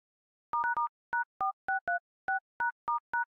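Phone keypad DTMF tones beep as a code is dialed on a dial pad: about twelve short, clean, evenly loud beeps in an irregular typing rhythm, separated by silence, with no voices.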